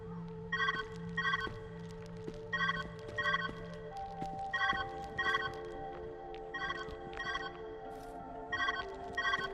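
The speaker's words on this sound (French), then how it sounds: "Where's that ringing coming from?" A telephone rings in the video game Viewfinder, repeating in short paired bursts at a steady rhythm over a sustained musical backdrop, clear and fairly close.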